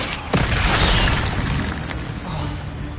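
A fire spell blast cast in a Hogwarts wizarding video game: a loud, broadband whooshing burst that swells quickly, holds roaring for about a second, then fades into a crackling tail.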